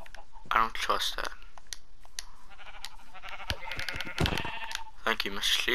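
Sheep bleating in Minecraft, several short wavering bleats scattered among a player's talking and clicking keyboard keys, fairly close and clear.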